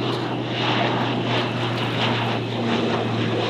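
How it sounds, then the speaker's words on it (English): A propeller airplane flies over a quiet locals beach, its engine a steady loud drone with a constant low hum holding throughout, near and unbroken, with no talking. "Here comes a plane right now."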